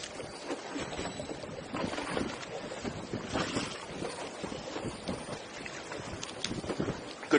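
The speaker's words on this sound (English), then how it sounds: "It is hot and windy." Steady, gusty wind buffets the microphone on hot, windy open water during a shark-fishing outing, a broadband rushing roar with no voices.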